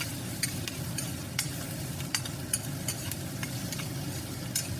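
Cooked rice with finely chopped ginger and garlic fries and is stirred in a pan, giving a continuous soft sizzle punctuated by regular scraping clicks of the spoon.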